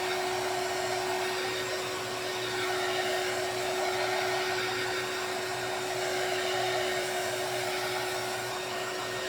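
Hair dryer blowing steadily on mixed media artwork, a constant close whir with a fixed tonal hum running unbroken from start to finish.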